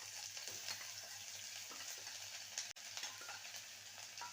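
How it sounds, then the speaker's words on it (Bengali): Ginger paste sautés in a pan with dried red chilli, a steady quiet sizzle and soft frying hiss with light stirring, plus a single sharp click midway, no voices. "আদাটাকে ভালো করে কষিয়ে নেব।"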